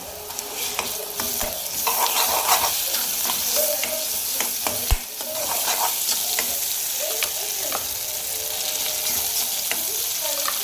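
Ground masala paste hits reddened onions in hot oil for a Marathi garlic-fenugreek vegetable dish, giving a loud, dense sizzle with steady scraping and stirring strokes close by and no talk.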